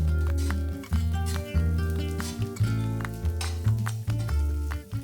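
Capsicum and onion frying in a pan for pav bhaji, a steady sizzle with spatula scrapes and stirring knocks under background music.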